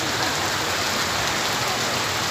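Heavy rain pours steadily and loudly, a dense, continuous hiss of drops drumming on a surface, with no voices and no letup through the whole stretch.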